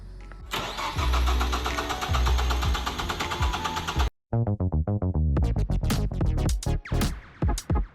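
A 2022 Hyundai Kona N cranks and fires into a loud rough idle, then cuts out after a few seconds; after a brief silence come repeated cranking attempts and sputtering catches, all close and with no talking.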